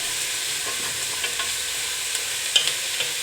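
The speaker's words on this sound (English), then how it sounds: "just make sure you move your vegetables around a bit because you don't want them to stick to the bottom and burn" Vegetables for soup stirred and sizzling in a pot, a steady frying hiss with a few light scraping clicks of the spoon, close and alone with no talk.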